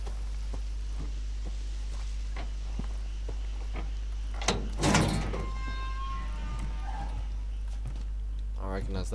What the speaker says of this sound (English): Recognize that door sound.